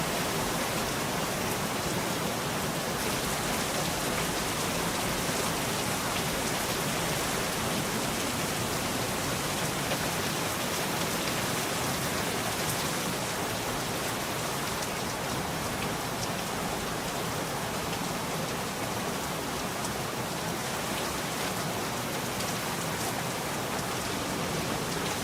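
Steady rain falls in a hunting video game, a dense, even hiss of raindrops that stays constant and fairly close throughout, with no voices over it.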